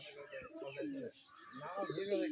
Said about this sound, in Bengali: কবুতরগুলো আমার নানার অনেক সুন্দর সুন্দর কবুতর মাশাআল্লাহ